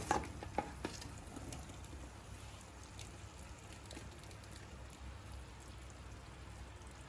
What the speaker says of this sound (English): Constantly stir to make sure it don't stick.